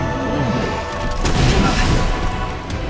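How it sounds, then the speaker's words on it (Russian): A gunshot fired at point-blank range in the Resident Evil 2 remake video game lands as a sharp, loud blast with a booming tail, heard amid ongoing in-game rumble and clatter. "опять вплотную выстрелил"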